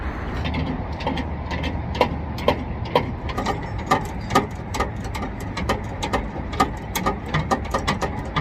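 Ratcheting clicks of a Toyota Tacoma spare tire winch being cranked up under the truck bed, a steady rapid series of mechanical clicks and gear rattle, close and continuous.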